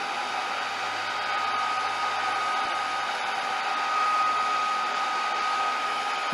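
Hair dryer blowing on paper towel sunflower petals, a loud, steady whirring drone with a constant pitch that continues unbroken throughout.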